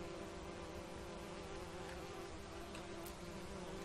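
Steady, dense buzzing of bees at a honey farm in the video game Enderal, a continuous insect drone that stays level throughout with no voices.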